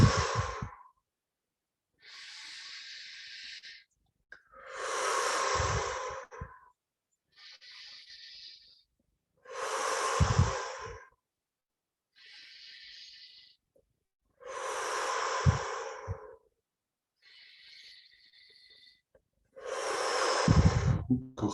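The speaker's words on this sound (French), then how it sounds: "j'inspire par le nez, j'expire par la bouche" Slow, deep breathing during a guided meditation: long, soft inhalations through the nose alternate with fuller, louder exhalations through the mouth, each cycle separated by silence, close and clear with no talking.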